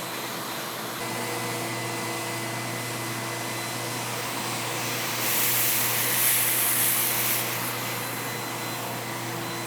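A shop vac with an extension runs steadily in a workshop, a continuous loud motor whine with a brighter surge midway as sawdust is pulled in, heard alone.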